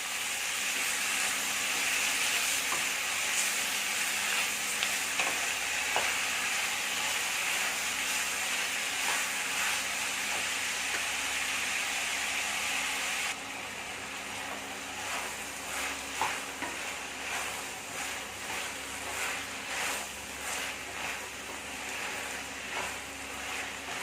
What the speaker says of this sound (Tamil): எல்லாமே நல்லா வதக்கிடும் கூடவே முள்ளங்கியும் போட்டுருங்க கொஞ்ச நேரம் வதக்கணும்